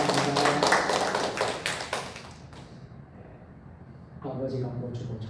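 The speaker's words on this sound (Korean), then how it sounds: "우리 집사님께 감사의 박수를 하겠습니다." Church congregation clapping in thanks for a deacon's gift of rice, a dense burst of hand claps that fades out after a couple of seconds, followed by a quieter stretch and then talk resuming.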